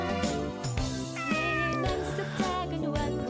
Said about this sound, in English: Cute little cats.